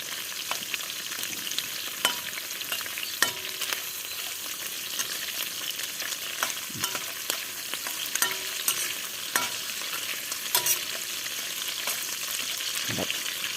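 Food frying in a pan on low heat, a gentle continuous sizzle with sparse pops and crackles and a few stirring clicks, close and steady, with no talking.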